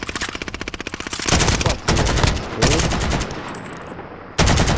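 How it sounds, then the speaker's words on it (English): AK-47 gunfire in Call of Duty: Modern Warfare rings out first as a rapid, evenly spaced automatic burst, then as heavier, denser volleys of shots with a brief gap before a final loud burst. "Oh, dude, I forgot I got this AK-47."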